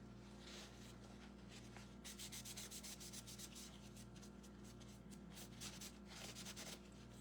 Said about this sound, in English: whenever you rub it with a dry paper towel or maybe a shop cloth or whatever, it will pull up the excess